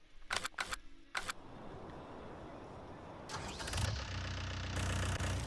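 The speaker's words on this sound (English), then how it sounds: "That one has probably one of the most, I guess, unique engine startup sounds." In Farming Simulator 19, a Krone Big M 450 self-propelled mower fires up: a few sharp clicks, then a starter whine and the engine catching into a steady, rising idle hum, fairly close.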